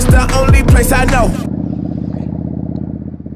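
A Suzuki Marauder bobber being ridden, its engine a steady close drone with a low rhythmic pulse, first under loud singing or talk, then heard alone as the voice stops.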